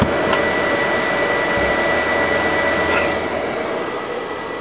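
A game console's cooling fan gives a loud, steady whirring roar with a high whine, continuous and close, like an aircraft engine droning without pause.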